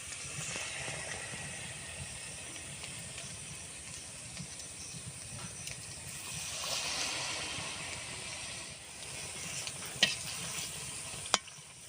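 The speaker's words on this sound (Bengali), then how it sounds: "এবারে আমি ভেজে নেব পুর ভরা তালের বড়া" Stuffed palm fritters, filled with sweet kheer, deep-frying in hot white oil, giving a continuous bubbling sizzle with a faint hiss and a couple of sharp clinks near the end, no voices.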